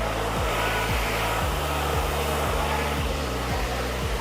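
A hair dryer fitted with a diffuser dries curly hair, a loud steady whirring hum held throughout with faint periodic dips in motor pitch as the hair is moved about, no voices.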